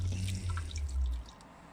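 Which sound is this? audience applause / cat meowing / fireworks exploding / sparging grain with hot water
sparging grain with hot water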